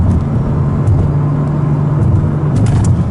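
A car engine revs steadily and loudly throughout, a constant low drone with slight rises in pitch, no voices present.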